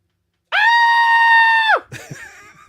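A person's voice imitating a screaming goat, one sustained, loud, bleating shriek of over a second that drops off abruptly, followed by brief rustling and faint voice sounds.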